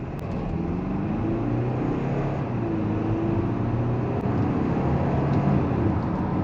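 Interior of a Kia Sorento facelift with a 2.2 diesel engine and dual-clutch gearbox, accelerating from 30 km/h: a steady engine drone with rising harmonic tones as revs climb, under constant road noise and no talk.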